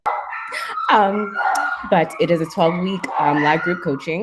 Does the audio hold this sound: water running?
no